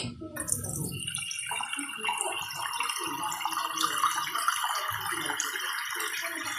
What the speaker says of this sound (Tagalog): lagyan na natin siya ng kaunting sabaw mga kaguro